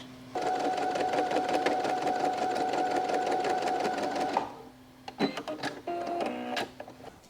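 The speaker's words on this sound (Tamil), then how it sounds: "இப்போ போய் மெஷினில் உட்காந்து எல்லாத்தையும் ஃபினிஷ் பண்ண போகிறேன்" A sewing machine stitches a dress with a fast, even clatter running close for about four seconds, then stops and restarts in a few short bursts.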